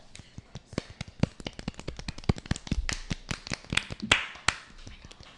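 A small group in a French talk show setting claps, scattered sharp hand claps building into brief applause at close range, fairly quiet, over about five seconds.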